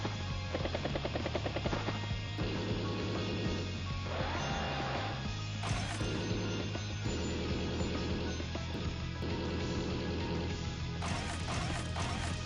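Game audio from Advance Wars: Days of Ruin during a battlecopter unit's turn, a loud, continuous mix of music, rotor-like whirring and crashing hits running the full length without pause.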